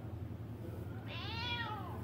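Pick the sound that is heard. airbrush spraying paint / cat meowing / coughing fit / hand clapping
cat meowing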